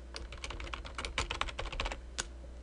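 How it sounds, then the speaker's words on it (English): Rapid, irregular keystrokes on a computer keyboard as a new name is entered, a close, crisp burst of clicks lasting a couple of seconds with a final isolated tap. "Type in your new name"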